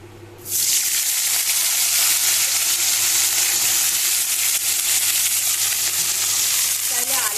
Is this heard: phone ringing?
no